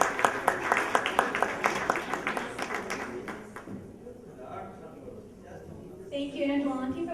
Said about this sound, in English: A big round of applause for holding 2 titles